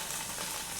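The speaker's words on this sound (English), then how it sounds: "Onions, ginger and garlic frying in the pan." A brief, steady sizzle of onions, ginger and garlic frying in a pan, close and moderately quiet, with no talking.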